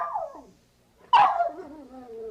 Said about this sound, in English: Yes, it's Spot the Wonder Dog